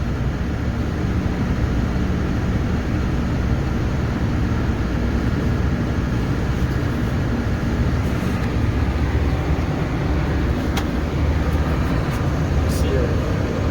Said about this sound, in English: We're gonna idle it up so we build some air pressure.